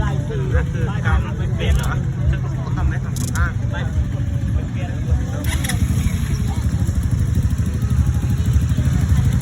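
A motorcycle engine on a market street runs with a rough low roar that swells as it is revved, loud and near, with people talking and shouting over it throughout.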